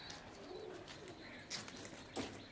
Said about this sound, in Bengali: সব করুন পায়রাগুলো দেখুন।